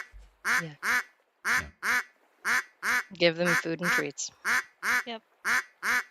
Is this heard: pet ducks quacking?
yes